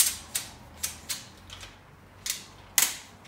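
Bugaboo Fox stroller handlebar folding down, a handful of sharp plastic-and-metal clicks and latch snaps spaced unevenly over a few seconds, close by and with no talk.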